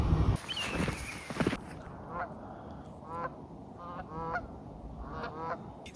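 Late-season geese honk repeatedly in short bursts near a field, the calls coming and going over a steady outdoor background, with a loud rustle near the start.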